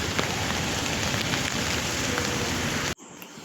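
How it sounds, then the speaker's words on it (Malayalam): Heavy rain pours down steadily as a dense, loud hiss that holds without a break for about three seconds before cutting off abruptly. "നല്ല മഴ പെയ്തുകൊണ്ടിരിക്കുകയാണ്."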